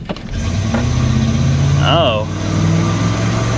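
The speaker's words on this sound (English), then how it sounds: "see if we can do a little burnout over here." A 1999 Dodge Ram pickup, abandoned for six years, idles loudly up close as the driver readies a burnout, with a brief rising whine partway through and a voice exclaiming once.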